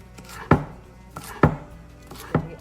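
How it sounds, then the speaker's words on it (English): Knife slicing snow peas diagonally on a cutting board for Thai red curry chicken: three sharp, close chops spaced about a second apart, with no talking. "we will just kind of slice them diagonally like this"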